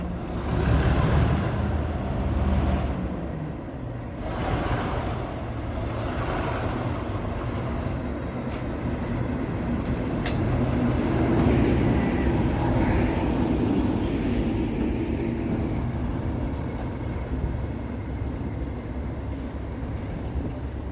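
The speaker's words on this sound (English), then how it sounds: "So let's hop inside and take a trip behind these powerful diesel locomotives" Class 37 diesel locomotives on the North Yorkshire Moors Railway during a diesel gala, a steady loud engine rumble and rolling drone continuing throughout with brief rises in intensity.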